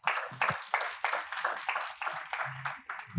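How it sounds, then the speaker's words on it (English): An audience at a children's day media symposium gives itself a round of applause, sounding as a steady run of distinct, fairly close claps in a quick rhythm that continues throughout. "A round of applause for yourselves."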